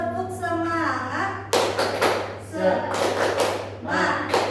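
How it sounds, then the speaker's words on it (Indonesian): A teacher-led classroom chant of rhythmic clapping: a voice opens it, then bursts of sharp, close claps alternate with chanted voices in a patterned rhythm. "mari kita tepuk semangat dulu ya"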